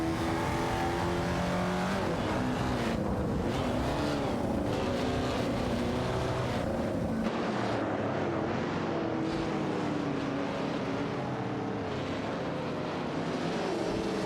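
Engines of vintage race cars in a racing video game set at Eastern Creek, a continuous loud whine with pitch sweeps as cars accelerate and shift, the sound thinning slightly partway through.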